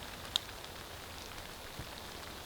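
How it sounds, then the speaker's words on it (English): Rain falling at a cold bushcraft campsite, a faint, even patter on surfaces with one sharp drop tap early on, quiet and steady with no talking. "It is now raining, actual rain."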